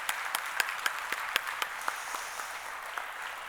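A church congregation claps to welcome a guest, with a sparse, scattered patter of hand claps that stays fairly faint and irregular throughout.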